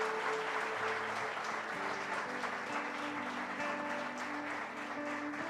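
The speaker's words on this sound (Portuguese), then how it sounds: "Palmas" Church congregation applauding at a Holy Communion service, steady sustained clapping from many hands throughout, with a faint sung or organ tone underneath and a few voices at low level.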